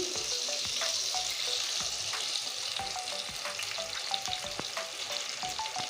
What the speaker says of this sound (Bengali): এখন আমি এই আলুগুলো ভেজে নেব